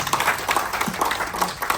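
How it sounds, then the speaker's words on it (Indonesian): An audience at a government coordination meeting in South Sulawesi, Indonesia, gives a short burst of steady, dense clapping, heard close and evenly loud. "Tepuk tangan dulu."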